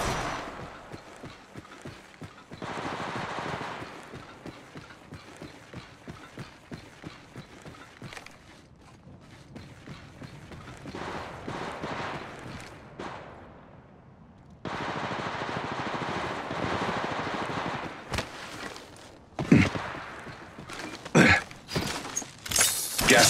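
Video game gunfire in a team shooter: rapid bursts of automatic fire repeat through the clip with short gaps, then louder, sharper shots and impacts toward the end, all without talk.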